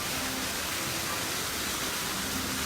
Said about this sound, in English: Nice to hear the water fountain here.